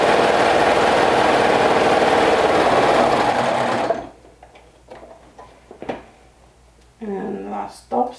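A sewing machine runs steadily for about four seconds while top stitching a rainbow dress, loud and close, then stops; a few faint clicks and handling noises follow, with a short burst of talk near the end.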